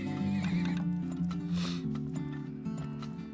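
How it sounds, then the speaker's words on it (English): Horses in the video game Turmoil neigh in a long, wavering whinny over steady clip-clop hoofbeats, fairly close, with no talk over them. "I gotta add like 3 more horses."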